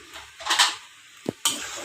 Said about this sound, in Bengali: এখন এটা ঢেকে দিতে হবে